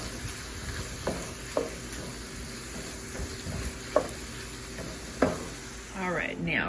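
Shrimp cooking in a skillet beside fish and onion, with a soft continuous sizzle and occasional utensil clicks and scrapes, and a faint voice briefly toward the end.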